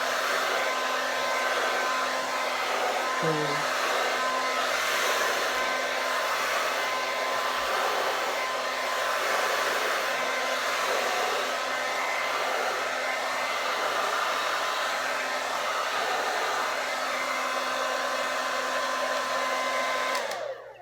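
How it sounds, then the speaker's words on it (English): Hair dryer on its cool setting blowing continuously while hair is blow-dried, a loud steady whooshing whine with a constant motor hum that holds for about twenty seconds before cutting off at the end, no speech. "it'll probably be easier if I did put it into sections when blow drying it"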